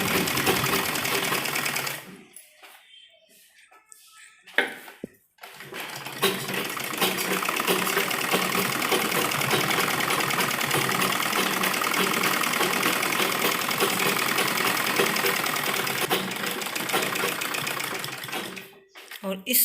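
Sewing machine stitching the lining of an embroidered suit, a short burst, a pause, then a long, steady, fast-running stitch at moderate volume with faint speech at times.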